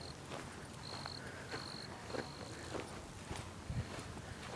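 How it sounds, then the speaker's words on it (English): Crickets in early April at a Cape May nature trail give faint, scattered high chirps in short bursts against a quiet outdoor background, with light footsteps and soft rustling nearby. "Crickets in early April."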